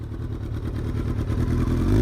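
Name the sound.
sport motorcycle engine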